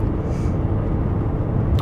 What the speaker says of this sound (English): They make these exhausts quiet.